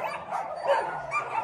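A few dogs at a mountain home bark and yip in brief, quiet bursts, faint and a little distant, with no voices.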